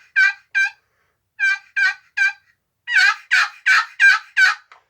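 Cabela's Tactical Tatr' 2 turkey call worked with short strokes, giving clear gobble-like clucking bursts: two quick notes, a pause, three more, then a louder run of five close, raspy yelps with no talking.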